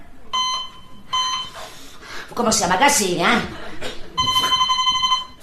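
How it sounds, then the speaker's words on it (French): A telephone rings in a stage comedy performance, with repeated electronic bursts of trilling tones that come before and after a woman's spoken line. "C'est le téléphone."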